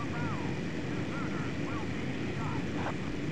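A propeller warplane's engine drones steadily in a naval combat video game after spawning near an aircraft carrier. The noise is a constant broadband hum under lively voices talking throughout.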